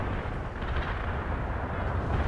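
Heavy artillery fire support in the World in Conflict game, with a continuous low rumbling barrage of distant blasts rolling on without a break, dense and booming, with no talk over it.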